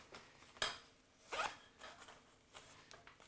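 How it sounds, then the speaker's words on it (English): Zipper on a kit bag pulled in a few short strokes, two sharp close rasps followed by softer tugs, quiet and alone. "Zippers still work great."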